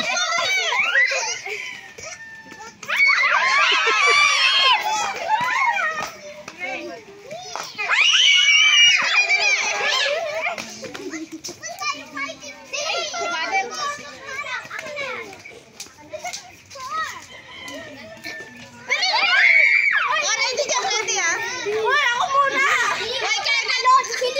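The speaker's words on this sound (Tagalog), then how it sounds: "Iwas sigaw, wag kayo magsigaw." A group of children plays noisily, shouting and screaming with bursts of laughter and excited chatter, loud and continuous, with louder surges at intervals.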